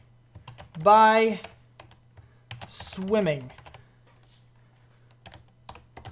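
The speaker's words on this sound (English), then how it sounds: "Sorry about the loud keyboard if you can hear that." Loud computer keyboard clacking in quick bursts of keystrokes, close and crisp, with someone talking briefly over it.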